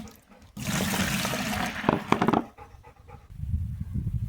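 Water poured into a strained egg white and garlic blend, a steady rushing pour for about two seconds that ends in a few splashes, followed by quieter low sloshing.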